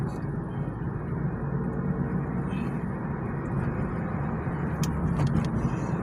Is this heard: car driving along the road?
yes